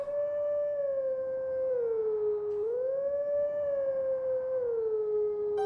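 Wolf Link howls the Song of Healing in The Legend of Zelda: Twilight Princess, a clear, sustained melodic wolf howl that rises and falls through several long tones, with no talk.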